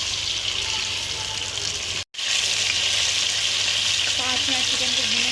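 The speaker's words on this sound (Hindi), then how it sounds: "हम इसमें अपनी जो चिकन हमने मैरिनेट करके रखी थी वो डालेंगे। अच्छी तरीके से इसमें भूनेंगे।" Marinated chicken hitting about a cup of hot oil for chicken karahi, a loud, dense, continuous sizzle with a brief cut partway through, then crackling spatters; no speech.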